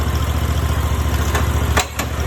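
Riding mower engine idling steadily up close with the parking brake on, a continuous low rumbling drone with a couple of faint clicks near the end.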